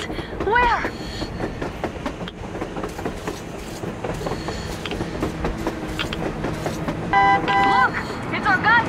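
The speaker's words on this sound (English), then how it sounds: "A damn train on the surface!" A train rolls past on the surface in a Metro video game, a steady rumble with rhythmic clacking and a couple of horn-like tones, while people talk over it.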